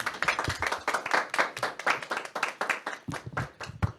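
A studio audience on a Catholic television show claps enthusiastically. The close, distinct hand claps come in quick bursts and build into continuous applause.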